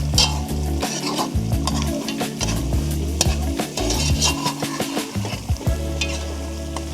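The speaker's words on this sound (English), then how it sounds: "Keep scraping the bottom, otherwise it's just gonna get stuck." A utensil scrapes the bottom of a pan as coconut oil is cooked down from coconut, steady scraping and stirring strokes over a continuous sizzle of frying, close and without talk.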